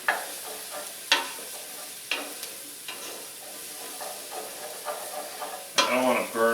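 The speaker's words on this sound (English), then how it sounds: "I don't want to burn my onion and garlic, so I just want to keep it moving in here." Onion and garlic frying in a pan, stirred with sharp scraping strokes every second or so over a steady sizzle, with a louder burst of sizzling near the end.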